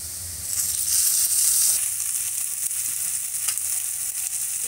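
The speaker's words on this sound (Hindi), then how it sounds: "अब इसमें हम डाल देंगे ये टमाटर बारीक कटे हुए।" Finely chopped tomatoes sizzle in a pan for sabudana khichdi, a bright, hissing crackle that swells loudly at first and then settles into a softer steady fry, with no one talking.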